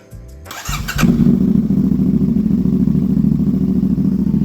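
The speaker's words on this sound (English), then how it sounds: "Here is what the Amazon Ninja 400 exhaust sound like on my Cfmoto 450ss." A Cfmoto 450SS motorcycle fitted with an aftermarket Ninja 400 exhaust starts up and settles into a steady, deep, rumbling idle close to the microphone.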